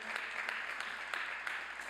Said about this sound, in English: Let's give them a big round of applause for all they do for our country.